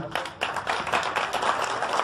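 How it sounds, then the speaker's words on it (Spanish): Applause for two young boxers after their exhibition bout at a boxing event: dense, steady clapping from a crowd, fairly close and sustained throughout, with no talk over it. "muy merecido el aplauso para estos dos pequeñitos"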